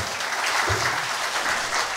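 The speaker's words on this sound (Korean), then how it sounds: "큰 박수로 환영합니다." An audience at a Buddhist temple ceremony claps steadily and warmly for a parliamentary guest, a dense, sustained round of applause filling the hall without pause.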